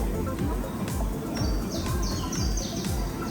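Small bird chirping at Como Zoo, high short calls repeating several times over a steady bed of crowd and ambient noise, moderately close.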